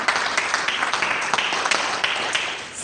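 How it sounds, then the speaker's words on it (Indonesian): Applause from a church congregation during a sermon, a brief burst of many hands clapping at moderate volume that fades toward the end. "beri tepuk tangan"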